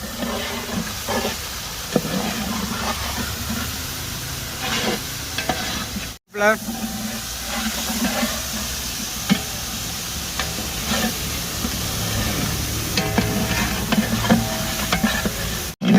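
Ginger and garlic frying in hot oil at the start of a large-batch chicken gravy, a loud continuous close sizzle with stirring scrapes and clatter, interrupted by two brief dropouts.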